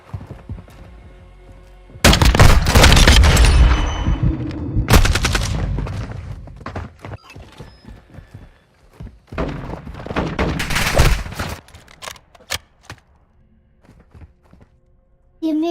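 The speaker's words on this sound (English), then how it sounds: "This has got to be classed as a battle rifle." Battle rifle fire in Call of Duty Modern Warfare II, loud bursts of rapid shots in clusters separated by quieter stretches with footsteps and game noise.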